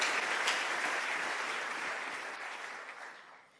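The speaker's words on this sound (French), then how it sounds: "Nous acclamons Dieu pour la guérison de notre sœur." A church congregation applauds God for a sister's healing, a steady wash of clapping that holds level and fades slightly toward the end, with no voices standing out.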